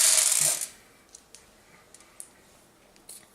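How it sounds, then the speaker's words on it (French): Dice rolled during a solo game of the board game Lucidity: a loud clattering tumble for about half a second, followed by several faint small clicks as they settle. "On tire les dés."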